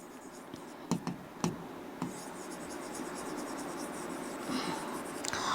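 Notes are written by hand on paper, a soft continuous scratch close up and quiet, punctuated by a few sharper taps of the pen, with no talking.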